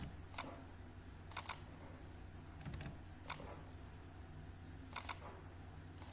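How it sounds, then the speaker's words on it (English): A computer mouse button gives quiet, crisp double clicks: several paired ticks and one single tick, spaced a second or two apart over a low steady room hum. "I'm just double clicking on them with the mouse"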